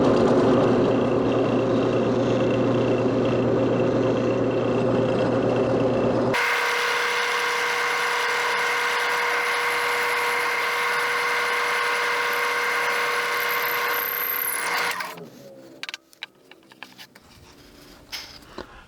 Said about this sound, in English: now we're going to drill a through hole 3/8 inch deep.